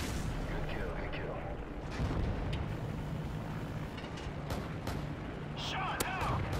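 AC-130 gunship firing in a multiplayer video game, producing repeated heavy booms and rumbling blasts over continuous noisy battle ambience, with players talking over it.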